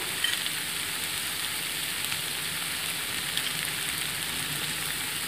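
Spiced ingredients with salt, ginger and pepper frying in a pan, a steady, close hiss of sizzling oil with faint crackles that continues unbroken and without voices.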